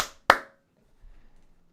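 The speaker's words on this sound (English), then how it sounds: "Clapping." Two sharp hand claps ring out in a quiet room as a microphone check, the second louder and crisper, followed by faint low rustling.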